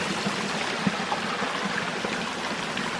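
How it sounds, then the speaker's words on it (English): A waterfall in the Adirondack backcountry gives a steady, even rush of water from a moderate distance, with no voices heard. "Nice waterfall."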